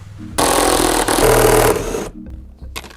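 Electric power tool unscrewing the bolts of a car seat during interior removal: a loud buzzing whir for about a second and a half, then brief quieter bursts.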